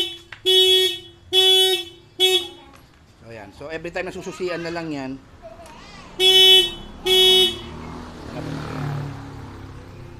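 A Yamaha NMAX scooter horn honks three quick times, triggered by its anti-theft GPS tracker, then twice more after a person speaks briefly between the blasts.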